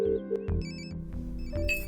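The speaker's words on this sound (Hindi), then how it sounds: "रिंग जा रही है" A phone ringtone chimes in a repeating pattern of bright tones over a low musical background, fairly loud, in a dramatic film scene with no talking.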